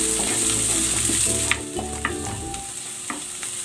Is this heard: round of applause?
no